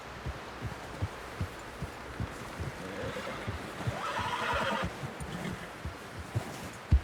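Horse in the Red Dead Redemption 2 video game, whinnying over a steady run of clip-clopping hooves, with soft watery ambience in the background.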